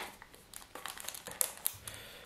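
Taped packaging around a Linksys PAP2T gets pulled open, giving quiet, close, irregular crinkles and rustles with a few sharper crackles over a couple of seconds.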